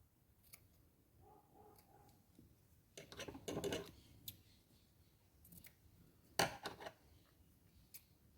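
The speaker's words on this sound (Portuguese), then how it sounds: "eu vou cortar mais um pouquinho, porque eu não quero um barbão" Scissors snipping a figure's beard for a nativity scene in a jar, quiet close-up cuts in a few short clusters of crisp clicks and snips with pauses between.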